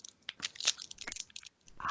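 Strawberry cheesecake Kit Kat being bitten and chewed close up, a quick run of crisp wafer crunches in uneven bursts, fairly quiet with brief gaps between bites.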